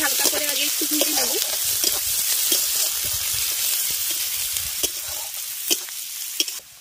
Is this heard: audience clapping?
no